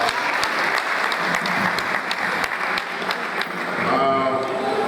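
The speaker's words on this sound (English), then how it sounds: "Let's clap." An audience at an annual public lecture claps together in loud, dense applause with a few distinct sharp claps standing out, and a voice begins speaking as it carries on near the end.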